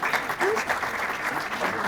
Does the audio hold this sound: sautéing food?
no